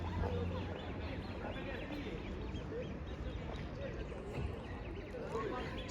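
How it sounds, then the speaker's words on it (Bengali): Ducklings calling at Sarnico Lake in Italy, faint and distant quacking scattered through a low, steady outdoor wash of background noise. "ছোট ছোট হাঁসের বাচ্চা ডাকতেছে"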